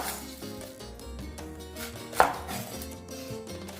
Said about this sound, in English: we're gonna start by cutting our red onion first